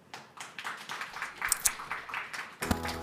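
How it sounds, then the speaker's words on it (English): Audience clapping at a startup demo day, a steady spread of many hands forming moderate applause that swells slightly toward the end, with no talk over it. "please welcome her with a round of applause"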